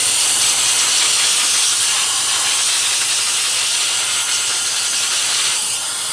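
A loud, continuous hiss of blown air cleans dust out of a Smartstitch embroidery machine, with a steady rushing blast held evenly from start to finish and no speech.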